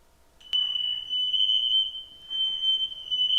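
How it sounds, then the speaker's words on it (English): A household smoke alarm in a home with smoke inside gives a loud, steady high-pitched electronic tone that starts abruptly and holds with slight wavering, with no talking over it. "The fire alarms was going off, there's smoke in the crib"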